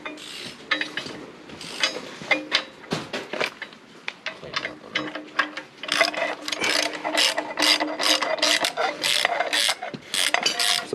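A ratchet wrench rapidly clicks while tightening lock washers on a 1988 Ford Ranger, with close, quick bursts of clicking that grow denser and louder toward the end.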